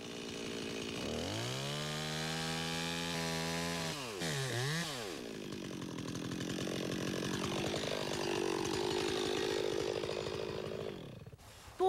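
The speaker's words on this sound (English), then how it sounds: "that chainsaw really cuts through the tree." A chainsaw revs up and roars steadily, its pitch dipping and rising as it bites into a tree trunk, then cuts out abruptly.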